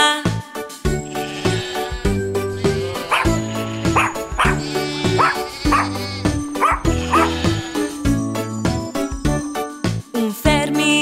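Sung barks imitating a farmer's dog in a Romanian children's song, rhythmic woof-like vocal yelps over bouncy music and singing voices, repeated in short bursts.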